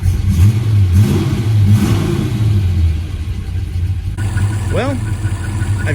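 Supercharged 1961 Studebaker Hawk R2 engine revving up in bursts, loud and close, with a deep rumbling idle between blips; voices talk over it, and a higher chirp sounds near the end.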